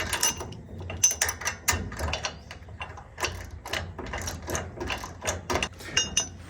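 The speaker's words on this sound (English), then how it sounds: "now I'm gonna tighten up the nylock nut until I get a nice tight feeling on this 2-inch ball" A ratchet wrench clicks repeatedly while tightening a nylock nut on the latch of a trailer hitch for a 2-inch ball, giving close, irregular bursts of metallic ratcheting with brief pauses between strokes.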